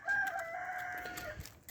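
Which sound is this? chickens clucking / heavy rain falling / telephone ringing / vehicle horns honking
chickens clucking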